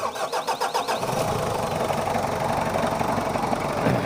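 A cold Mitsubishi Kuda diesel engine cranks with a rapid, pulsing starter rhythm for about a second, then catches and runs at a loud, steady clattering idle close by.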